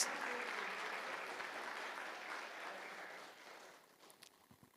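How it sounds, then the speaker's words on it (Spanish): A church congregation claps for God in a warm, sustained round of applause that gradually tapers off near the end, with a voice faintly heard as it fades. "Denle un aplauso al Señor porque Él es bueno"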